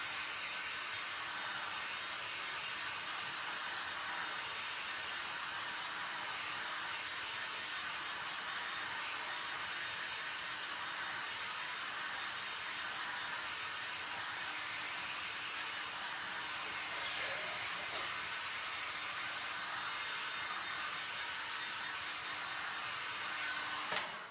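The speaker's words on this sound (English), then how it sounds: "I'm going to blast this a bit. Kind of give it a little bit of help to dry." A heat gun blasts hot air to dry craft paint on a textured fall pumpkin, giving a steady, even roar that runs unbroken and fairly close for the whole stretch with no talking.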